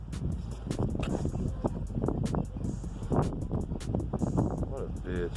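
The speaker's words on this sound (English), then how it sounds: "the big old gust of wind just came and" A sudden gust of wind buffets the microphone outdoors during body work on a Honda, rumbling loudly in uneven bursts with a voice talking over it.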